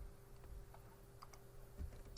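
Soft, scattered keyboard clicks tap along over a steady low hum, fairly quiet and close.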